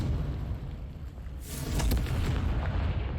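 A blasting spell explodes in a Hogwarts Legacy game scene: a sudden loud boom with a bright crackling burst that rolls into a sustained rumble, over a low ambient background.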